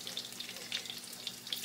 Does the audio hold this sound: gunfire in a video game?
no